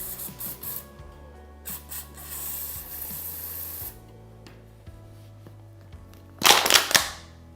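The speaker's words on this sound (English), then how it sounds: "that's where the Maxima brake and contact cleaner comes in handy" A can of Maxima brake and contact cleaner sprays onto motorcycle brakes in several short hissing bursts, close by, ending with one louder, longer spurt.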